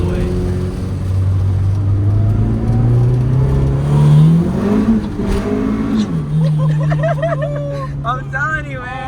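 A Honda CRX project car engine revs hard and climbs in pitch, rising steadily before dropping back, with people talking excitedly over the engine noise and a higher tonal sound near the end.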